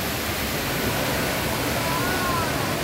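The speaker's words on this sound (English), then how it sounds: "that's the waterfall, the Jewel" Indoor waterfall at the Jewel, Changi Airport, a steady broadband rush of falling water filling the whole space, even and continuous, with a faint murmur of crowd talk underneath.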